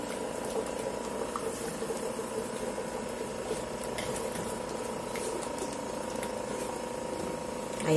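A pot of pirão, fish head broth thickened into a porridge, simmering on the stove, with a continuous low bubbling and churning that holds steady and close throughout, no talk.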